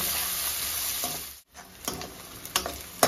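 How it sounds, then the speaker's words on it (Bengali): Chopped onions fry in hot oil with cloves and dried red chillies, a steady bright sizzle broken by a brief pause, then scraping stirs and clinks of a spatula against the pan near the end. "পেঁয়াজ কুচি দিয়ে দিলাম, পেঁয়াজটা নেড়ে দিচ্ছি, আর পেঁয়াজটা আমি লাল করে ভেজে নেব।"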